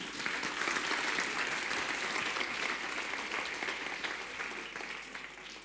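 Warm audience applause at an Easter church service, a dense, even roar of many hands clapping that holds steady and tapers slightly near the end.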